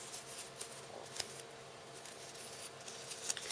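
Scissors snip through paper while cutting the tip off a paper rose petal, a faint, close, crisp rustling with a few sharper clicks and no talking.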